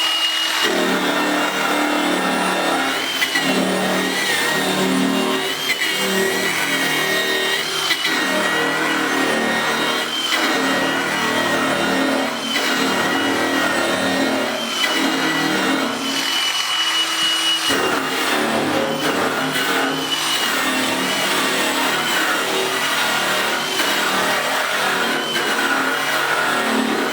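A Streetneat Power Stripper tool runs at 2300 RPM, a steady, loud mechanical whine with a motor hum that holds continuously throughout, rising and dipping slightly as it works across a surface, with no talking.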